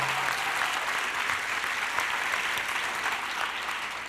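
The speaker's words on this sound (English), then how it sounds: "give him a round of applause" A large audience at a Shining Star CLE 2022 event claps steadily and loudly, a dense unbroken wash of applause that holds without a break throughout.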